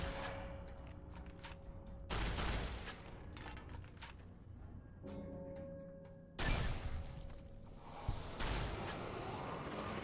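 Gunshots from a gun in the video game Fallout: New Vegas, heavy blasts and bursts of firing between quieter stretches, with a few sharp slams and whooshes and no talking.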